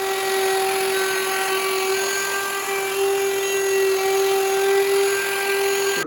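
A router trims the leftover edge of a tabletop, its bearing riding along the bottom edge, giving a loud, steady high-pitched whine that holds constant throughout.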